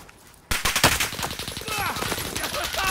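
Gunfire in Call of Duty: Modern Warfare bursts in loudly after a short quiet start, with rapid automatic shots and sharp cracks continuing densely throughout.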